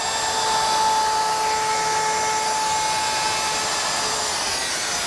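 A wood router fitted with a chamfering bit, cutter set shallow, runs steadily while cutting the edge of a wooden mirror frame, giving a continuous loud whining drone with no talk.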